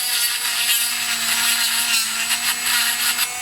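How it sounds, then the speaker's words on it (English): A 1.5 mm routing bit in a small rotary tool spins inside the end of a coupler during a model glider boom servo installation, giving a steady high-pitched whine with a faint tonal hum for a few seconds and no talk. "I'm just going to run this through the end of the coupler."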